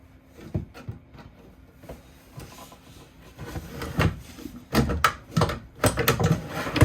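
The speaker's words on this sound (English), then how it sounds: "you just got to line the drawer back up with the glides" A series of wooden knocks and scrapes, sparse at first and then busier and louder, as a drawer is worked back onto its runners.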